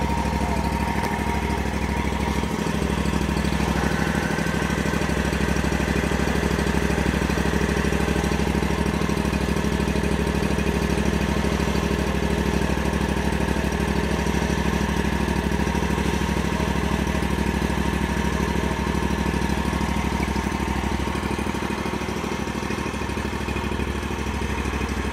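A zero turn lawn mower engine runs steadily throughout, a loud, close, continuous droning hum with no pauses and no talking.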